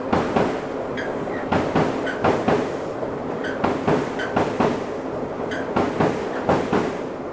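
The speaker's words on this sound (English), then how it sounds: "So here's the train going by right above us right now." A train rumbles along an elevated railway track directly overhead in Japan, its wheels producing a steady rhythmic clickety-clack of repeated joint beats throughout, loud and close, with no talking.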